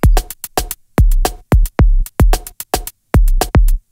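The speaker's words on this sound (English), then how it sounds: "I just have this really super basic drum beat" Very basic drum beat programmed in Ableton Live: punchy kick and snare hits alternating in a quick, even, repeating loop, loud, dry and close with short silences between hits, no voices.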